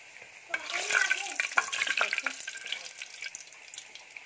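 Cinnamon, cardamom, cloves and a bay leaf sputter briefly in hot oil, a short bright crackle that swells and then fades quickly, close up and unaccompanied by speech.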